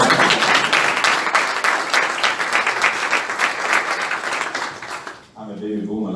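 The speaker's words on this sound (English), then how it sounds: "I think you deserve a round of applause." A room of conference listeners applauds the program director, steady dense clapping for about five seconds that stops abruptly, followed by a moment of talk.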